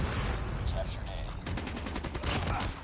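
Rapid SMG bursts from a Razor in Call of Duty Mobile gameplay, with dense repeated shots in short strings, louder and more continuous in the second half, with some game sound and talk-like noise underneath.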